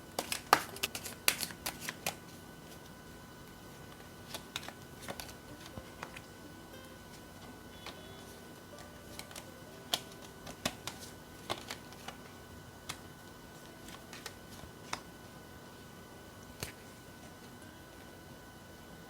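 Tarot cards are shuffled and laid out, with a dense burst of crisp riffling at first, then scattered soft snaps and slaps as individual cards hit the table close by, with no voices.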